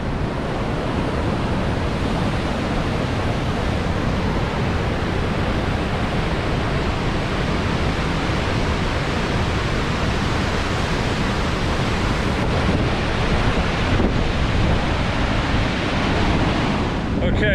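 Steady, loud rushing roar of a river and waterfall at Grand Falls Gorge in New Brunswick, heard from a lookout above the water, a dense unbroken wash of noise with faint wind buffeting on the microphone.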